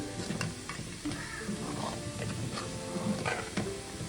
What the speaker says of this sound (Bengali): এখানে ফুলকপিটা ভাজছি